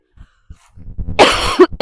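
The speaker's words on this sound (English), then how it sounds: "That cough would go away, I'd be doing great." A man on a small homestead coughs hard once, a harsh broadband burst near the mic after a few soft low thumps and shuffling movement, then a short throat sound at the end.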